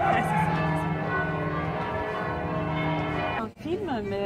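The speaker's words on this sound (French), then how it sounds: "C'est magnifique de voir les cloches en même temps." Church bells in Venice ring together in a dense, sustained peal with overlapping tones, moderately loud and steady, pausing briefly near the end before resuming.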